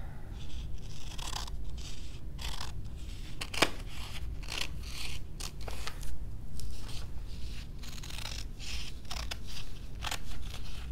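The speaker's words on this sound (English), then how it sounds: "you're going to use scissors to cut both of them out" Scissors snip through a paper design laid under cheesecloth, with repeated close crisp cuts and rustling at an irregular pace.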